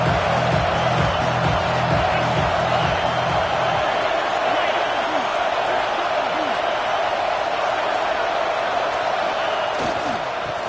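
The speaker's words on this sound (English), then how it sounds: "This crowd knows when to bring it." A football stadium crowd cheering at a Longhorns game, a dense continuous roar filling the whole stretch at steady loudness, with a low rumble and faint announcer talk underneath.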